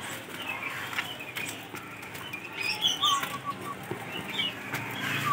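Cisem songbirds, all males, shuffle and flutter in cages, giving a steady soft rustle of wings with scattered faint chirps over continuous background bird noise.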